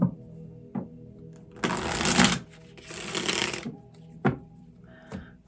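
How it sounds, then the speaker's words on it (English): Tarot cards are riffled in two long, whirring bursts, with a few sharp taps and clicks before, between and after them, close and clear. "Let's give this one a shuffle."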